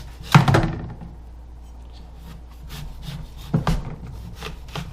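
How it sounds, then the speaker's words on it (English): A sharp butcher knife cuts a watermelon into slices inside a container, giving two heavy, close thunking chops with crunchy rind cracking and quieter wet rubbing between them. "now I'm going to slice this melon up in this container here"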